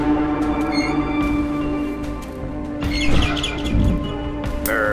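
Bird calls in the horror video game Garten of BanBan 6, several chirps and tweets scattered over a droning tonal background, a couple of louder bursts near the middle.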